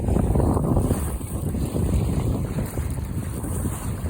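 Strong wind gust roaring past a Buccaneer 18 sailboat under sail on a spring day, loud buffeting on the microphone with the rush of water beneath, constant for the whole stretch and no voices.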